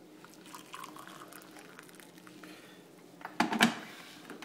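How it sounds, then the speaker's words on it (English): A toothbrush dipped into a mug of very hot, not quite boiling, kettle water and stirred: faint quiet trickle through most of the span, then a brief louder burst of sloshing and clinking near the end. "I'm going to put the brush into the mug and stir around."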